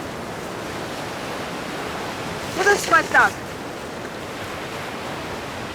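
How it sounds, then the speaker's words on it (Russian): Steady roar of sea waves on a windy Mykonos shore fills the background, constant and broadband, with a brief spoken phrase from a nearby man partway through. "Но с другой стороны слышно море."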